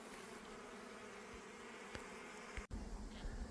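Honey bees buzz around nuc hives fitted with honey supers, a faint continuous outdoor hum with a few small knocks and one brief dropout.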